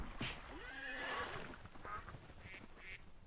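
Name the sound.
horse neighing in a Minecraft-like video game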